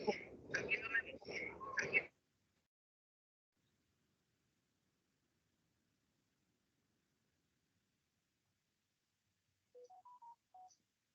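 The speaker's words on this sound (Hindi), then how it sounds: "मैम फोन आ रहा है मैम आपका" In a nursing college classroom, a short phone tone sequence of a few rising beeps sounds faintly near the end, after a brief stretch of talk and a long quiet gap.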